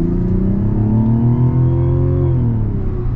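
Mazda CX-90 SUV accelerating hard in sport mode, engine note rising steadily and loud from inside the cabin, a continuous revving drone that climbs then eases slightly near the end, with no talking.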